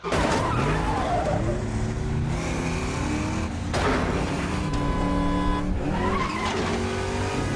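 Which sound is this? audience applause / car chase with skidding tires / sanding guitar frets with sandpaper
car chase with skidding tires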